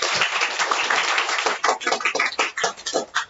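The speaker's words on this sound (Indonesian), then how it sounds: "kita berikan tepuk tangan dulu untuk kelompok kita semua." A classroom of students claps for a few seconds, a dense burst of hand claps that thins out into scattered claps toward the end.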